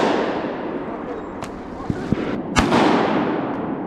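A shotgun fires on a duck hunt at a mossy pond, a few sharp outdoor blasts spaced over a few seconds, one louder crack near the end, over steady wind and ambient noise.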